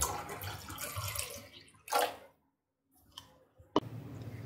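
Water pours over soaked chana dal in a bowl, a brief splashing run that cuts off into silence, then a few faint drips and a sharp clink as the pouring resumes, close and fairly quiet.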